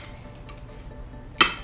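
Ribeye steaks flipped over in a pan, giving one sharp metallic clink of a utensil against the pan near the end over a quiet background.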